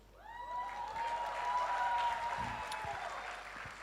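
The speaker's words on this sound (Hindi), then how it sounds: "तालियां बजाइए प्लीज" An audience at a Shah Rukh Khan app launch event breaks into applause that swells over the first second, holds steady and then slowly fades, with a sustained tone ringing over the crowd.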